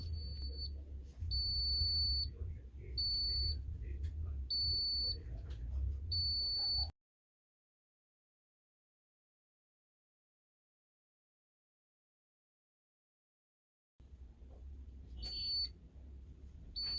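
An electric vehicle safety kit's smoke detector buzzer, set off by incense smoke, gives rapid, shrill, repeated beeps. They stop abruptly into several seconds of silence, then the beeping starts again.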